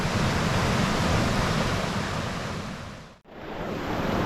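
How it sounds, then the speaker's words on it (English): A waterfall roars steadily at a campsite, a dense continuous rush of falling water close by that dips briefly near the end before resuming. "we'll just enjoy this beautiful waterfall"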